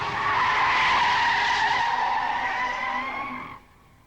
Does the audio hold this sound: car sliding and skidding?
yes